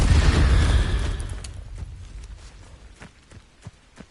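A fire spell cast in the video game Hogwarts Legacy gives a loud whooshing, crackling burst that fades over about a second. A few sharp clicks and thuds follow.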